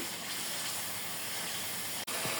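Ground spice masala sizzles steadily in a hot pan for a Bangladeshi mejbani-style meat dish, a continuous close frying hiss with no speech and only a brief break near the end.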